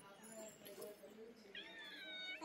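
A small black cat meows softly at close range, a few short calls with one longer rising meow near the end, while people talk over it.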